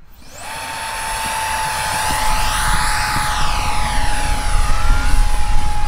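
A 3D-printed F4D Skyray model jet with a 50 mm electric ducted fan spools up to a loud, high-pitched whine and streaks past, its tone rising and falling as it swoops overhead.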